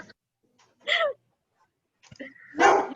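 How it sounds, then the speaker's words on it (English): A dog gives two short, sharp barks indoors, separated by about a second of quiet, moderately close and otherwise alone. "that one started barking"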